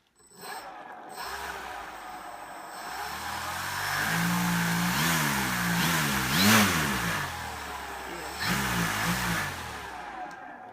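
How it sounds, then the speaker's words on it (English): The giant engine of a large model airplane roars nearby, revving up and down in several rising and falling surges over about ten seconds, with no talk over it. "But let's hear this giant engine roar."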